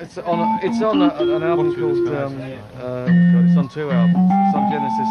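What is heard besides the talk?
No everyday noises stand out.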